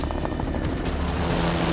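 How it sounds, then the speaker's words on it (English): A helicopter flies nearby with a loud, continuous rotor roar and rapid beating chop, steady throughout without voices. "Are we getting in a helicopter?"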